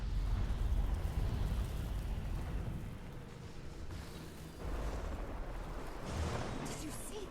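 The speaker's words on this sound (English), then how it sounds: "That bloodstone explosion seemed to trigger some sort of magical echo." In the video game Guild Wars 2, a bloodstone explosion bursts with a deep, booming rumble that swells at the start, dips, then rolls on again as a sustained low roar, with faint voices mixed in.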